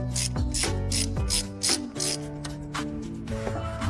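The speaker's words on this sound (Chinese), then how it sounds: "我们用 T100的工具把这个链轮螺丝松掉" A ratchet tool loosens a sprocket bolt on a Mercedes GLS450 engine during a timing chain sprocket replacement, giving rapid, continuous close metallic clicking with grinding mechanical tones.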